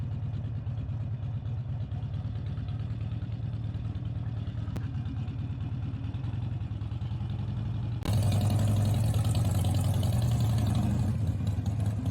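A Harley-Davidson motorcycle engine runs close by with a low, steady rumble, then grows louder and rougher as the throttle opens partway through and the bike pulls away.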